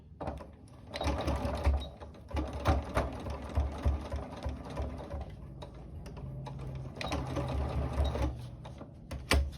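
A sewing machine stitches an invisible zipper, rapid mechanical whirring in bursts with short pauses between runs, close and clear.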